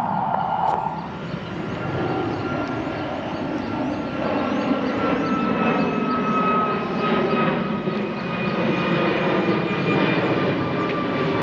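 A fixed-wing airplane drones steadily overhead near a golf club in the Tahana area, a continuous engine roar holding level at moderate loudness with no voices.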